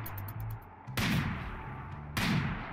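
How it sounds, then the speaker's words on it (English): Two loud rifle shots in the video game RimWorld, each a sharp crack with a lingering decaying tail, about a second apart and heard alone. "now I do need to come up here with the rifle so that we can start shooting at this thing."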